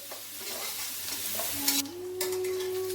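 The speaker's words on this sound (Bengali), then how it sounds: "পেঁয়াজটা ভাজা ভাজা হয়ে গেছে, পেঁয়াজের রং পরিবর্তন হয়ে লাল রং হয়ে গেছে" Onions frying in oil with salt, stirred with a spatula: a close, steady sizzle with occasional scrapes, and a faint steady tone entering near the end.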